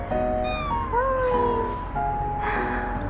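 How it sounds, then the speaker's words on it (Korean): A cat meows repeatedly in a cat-only waiting room, drawn-out and wavering cries heard close and loud over a steady low hum. "고양이 전용 대기실이야 살구야"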